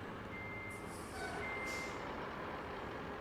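In RoadCraft, a truck's engine rumbles steadily while a high-pitched reversing beep sounds a few times, accompanied by a brief hiss like an air brake.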